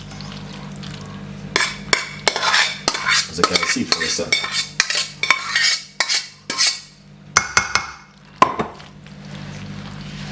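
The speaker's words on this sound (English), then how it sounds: "let's pour it into a bowl like this." Macaroni and cheese is poured from a pot into a bowl, with scraping and clinking of a utensil against cookware in irregular bursts and brief wet slides, close by, and a few words spoken.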